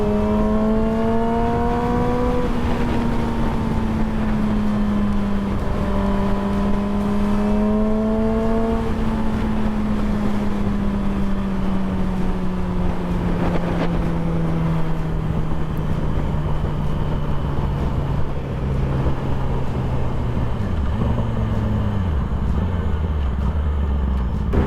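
A custom Yamaha R6 sport motorcycle engine drones loudly while riding, its pitch climbing and falling through gear changes over steady wind and road noise, with no talking.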